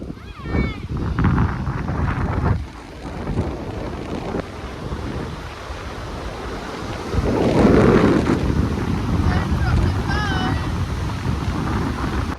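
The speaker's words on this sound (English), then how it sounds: "It's a very windy track" Strong wind buffets the microphone on a mountain swing bridge on the Hooker Valley track near Mount Cook, New Zealand: steady, roaring, gusty rumble throughout with a louder surge midway, while a person talks over it.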